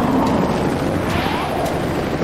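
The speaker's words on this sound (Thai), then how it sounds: "สนุกไหมที่เป็นเฮลิคอปเตอร์นะ" A cartoon helicopter sound effect from a children's monster truck cartoon gives a loud, steady whooshing rotor roar that fills the moment with no talking.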